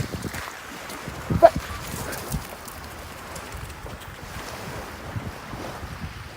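Steady wind rushing across the microphone with low rumbling surf of sea waves underneath, a brief louder gust or splash early on.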